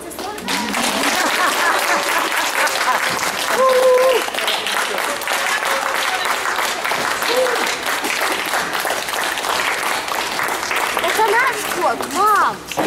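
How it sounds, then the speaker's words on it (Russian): Audience applause at a cat show judging in Israel, sustained clapping from a crowd lasting many seconds, loud and steady, with people talking over it. "Ну, хлопайте"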